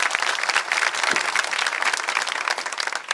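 Audience at a Marathi political rally breaks into sustained, dense applause, many hands clapping together steadily close by with a few louder claps near the mic, no talk over it.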